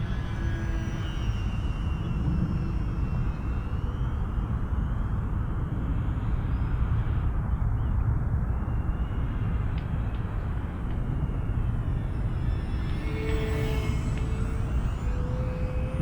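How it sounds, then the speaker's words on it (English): A JJRC M02 VTOL drone flies in airplane mode overhead, making a steady, fairly loud whirring hum that holds throughout with slight shifts in pitch. "So much quieter in airplane mode."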